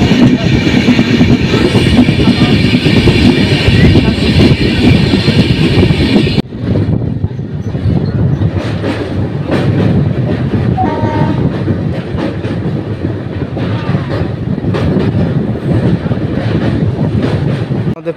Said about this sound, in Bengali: আমাদের ট্রেন পার করছে দেশপ্রাণ।